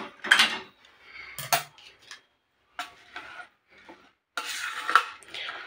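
A metal utensil scrapes and clinks against a pot while palak rice is mixed by hand, in irregular bursts of close, sharp clatter separated by short pauses.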